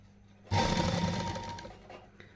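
A sewing machine stitches an invisible zip into a blouse in one short, close burst of rapid whirring that starts abruptly and fades out.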